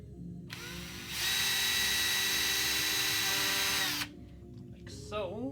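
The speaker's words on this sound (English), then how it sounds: "and then we just drill." A power drill spins up and whines steadily for about three seconds as it bores into the wooden body of a B.C. Rich guitar, then winds down, followed by quiet handling sounds.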